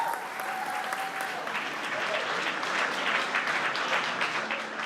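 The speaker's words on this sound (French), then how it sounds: "Veuillez applaudir la catégorie bikini numéro 1" Sustained audience applause for a bikini-category contestant at a women's bodybuilding competition, a steady wash of clapping holding evenly for about five seconds.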